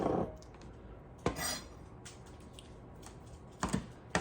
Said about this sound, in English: I'm gonna cut these eggs up a little bit as well